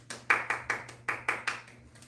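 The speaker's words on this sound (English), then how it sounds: "Give you a round of applause." Quiet, steady applause from an audience: about ten evenly spaced claps sound at a brisk, regular pace, thin and somewhat distant, with a low hum underneath.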